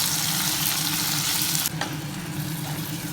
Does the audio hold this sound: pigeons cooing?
no